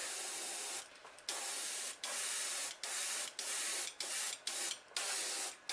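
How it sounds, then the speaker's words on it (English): Aerosol spray paint hissing in a series of steady bursts separated by short pauses, spraying a white base coat over black, close and fairly loud, with no voices. "here I'm going to spray another white base coat over the black"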